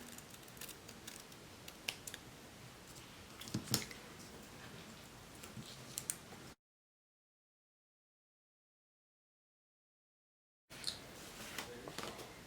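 Scissors snip through a planner sticker with soft, close, irregular clicks and crisp cuts, broken by a few seconds of silence before more quiet snipping, with no talk.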